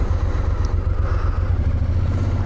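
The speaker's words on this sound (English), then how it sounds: "Something about this V-Strom engine just calls me" A Suzuki V-Strom motorcycle engine runs steadily nearby, a deep, throbbing low rumble with a constant level throughout.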